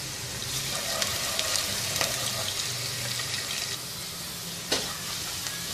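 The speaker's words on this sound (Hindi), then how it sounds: "एक दरमियाने साइज़ का प्याज स्लाइसिस में कटा हुआ, इसको हल्का सुनहरा फ्राई करेंगे।" Sliced medium onion frying in oil in a pot, a steady close sizzle running throughout with occasional stirring clinks and scrapes.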